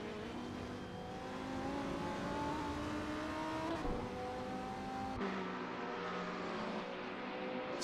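Race cars in a racing video game, a BMW chasing a Ferrari at Watkins Glen, engines droning steadily with rising pitch as they accelerate, fairly faint and steady throughout.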